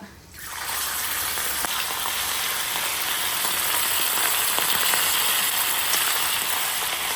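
Food drops into hot oil and fries, starting with a sudden burst and then a dense, steady sizzle that holds loud and close, with faint crackles and pops.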